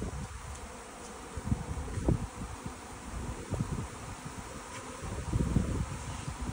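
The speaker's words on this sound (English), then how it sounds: "This is a swarm moving in." Honeybee swarm moving into a top bar hive, a steady buzzing drone of many bees close by with soft rustling and small bumps, no talking.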